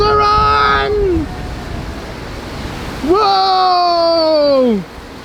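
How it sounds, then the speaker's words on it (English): Artificial waves in a wave pool at a resort in the Ilocos Region, Philippines, make a loud, constant rushing wash, while excited voices call out over it in two long bursts. "It's on! The waves are on!"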